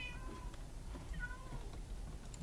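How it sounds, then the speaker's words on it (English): Cats meowing in Minecraft, a few faint, short mews heard at a distance over low background noise. "I hear cats."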